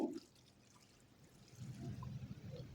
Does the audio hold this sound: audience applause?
no